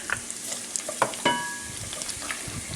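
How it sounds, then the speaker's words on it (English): Fresh minced garlic hitting hot olive oil with bacon in a skillet, a close crackling sizzle punctuated by clinks and scrapes of a utensil as it is stirred, with no talking. "I've had my olive oil heated and added my bacon. I'm now going to add my fresh minced garlic"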